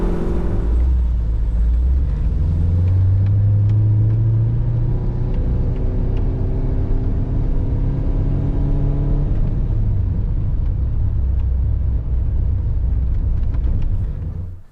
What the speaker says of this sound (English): using a sports car for its intended purpose on a racetrack